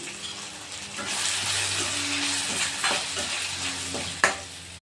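Onion and tomato frying in oil in a pot for a vegetable sambar: a steady sizzle with scraping stirs and occasional clinks of the spoon, close and fairly loud, ending with a sharp knock.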